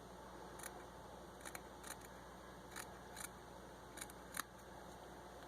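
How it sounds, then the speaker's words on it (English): Scissors cut fabric backing for a handmade gnome, a few quiet crisp snips spaced irregularly over a low steady room hum, with no talking. "I'm just cutting the fabric or the backing"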